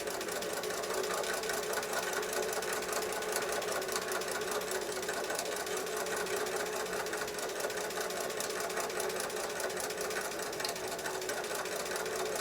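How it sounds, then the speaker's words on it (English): A sewing machine runs steadily for the whole stretch, stitching a curved quilt seam along a marked line while piecing a cheater Drunkard's Path block: a close, continuous, even mechanical whir with no talk. "start stitching right on top of that marked line"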